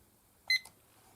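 A kitchen timer being set during a cross stitch craft session, giving a short pair of quick electronic beeps, close and clear against near silence.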